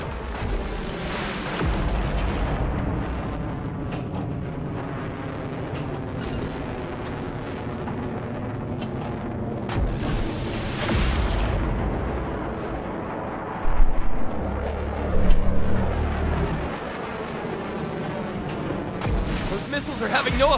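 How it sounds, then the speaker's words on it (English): Missiles launch and explode in Netflix's Pinball Masters mobile game, a steady barrage of booms and blasts over game music, with heavier impacts near the middle and end; a voice speaks over the action. "Those missiles are having no effect on that monster!"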